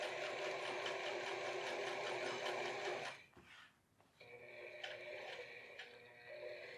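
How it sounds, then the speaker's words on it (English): A sewing machine runs steadily for about three seconds while stitching around a pants zipper, then stops and gives a few shorter bursts of stitching with brief pauses between them. "I'm going to sew around up to here."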